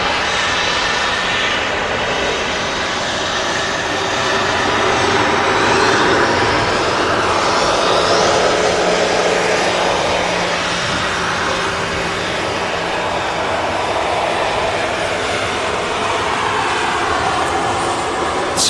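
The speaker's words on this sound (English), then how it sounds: "Split winglet design on the TUI 737-800." A TUI Boeing 737-800 airliner with split winglets roars steadily at Manchester Airport, a loud, sustained broadband jet engine noise that holds at near-constant strength for the whole stretch.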